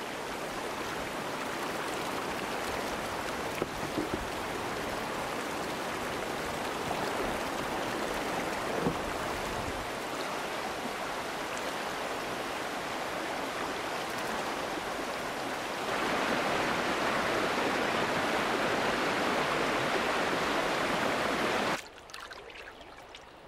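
River rapids rush in a steady, loud broadband roar of churning water, heard continuously and without voices, swelling slightly stronger near the end before cutting off.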